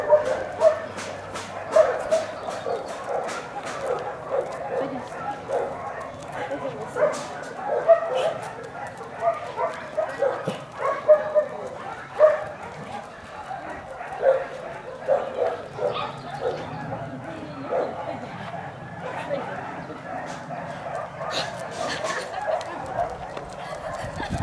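A small dog barks in short yips and whimpers repeatedly throughout, close and fairly loud, while a person speaks to it intermittently in the background.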